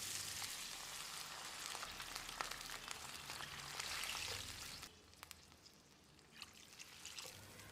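Water pours into a pan of sautéed tomatoes for a South Indian breakfast dish, giving a steady hissing sizzle that eases and settles after a few seconds, with no talking.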